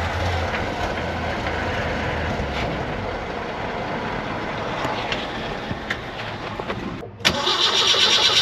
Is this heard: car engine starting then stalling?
yes